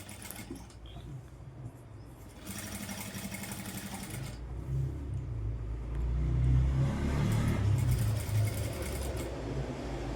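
Sewing machine stitching a Punjabi dress top along a curved seam, a steady close mechanical whir that hums along for ten seconds, growing louder and rumbling in the second half, with no talking.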